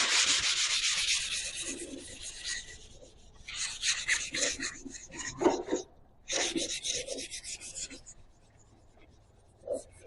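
A soft, flexible Durablock foam sanding block is rubbed by hand across a surface in preparation for painting, producing bursts of rasping, scratchy strokes with brief pauses, close up under occasional talking.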